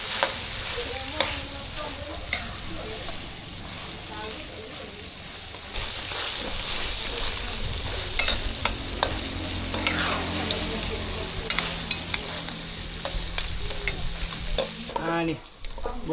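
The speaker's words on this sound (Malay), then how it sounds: "Itu goreng tunggu beri masak sikit." Bird meat frying in hot oil, loud continuous sizzle and crackle with stirring scrapes, close up, a voice speaking briefly over it.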